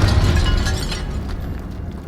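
Confringo blasting spell explosion in Hogwarts Legacy, a loud rumbling boom with heavy low-end roar that fades over two seconds, with faint crackling debris in the tail.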